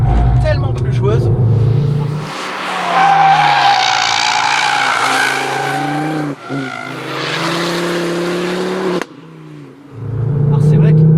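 A Honda Civic Type R driven hard on a race circuit, its engine loud and close with rising and falling revs and tyre skid noise across the run, while someone speaks over it.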